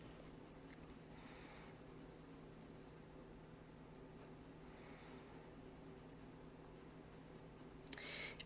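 A soft B-grade pencil scratches softly and continuously across paper in close, steady shading strokes, with a faint background hum.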